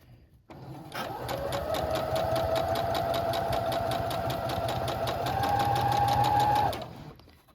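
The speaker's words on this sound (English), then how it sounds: "And I just sew it right along." A sewing machine stitches doll nightgown fabric in one continuous run of about six seconds, a steady rapid mechanical clatter close by that speeds up slightly near the end before stopping.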